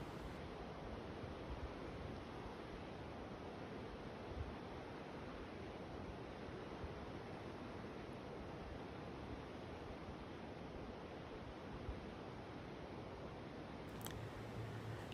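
The Koksilah River rushes below the Kinsol Trestle, a dense, steady broadband roar of flowing water that continues unchanged throughout, loud and unbroken with no voices.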